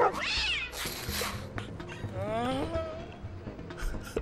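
A cat in the video game VirtuaVerse meows and caterwauls several times in drawn-out, rising and falling cries, up close and loud, with bursts of game sound effects between the calls.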